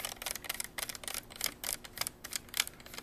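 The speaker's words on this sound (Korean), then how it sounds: "여기 나사만 그냥 풀어주고" Small screws being unscrewed from a laptop's hard drive bracket, quick close-up clicking and ratcheting ticks in short irregular bursts, faint and without speech.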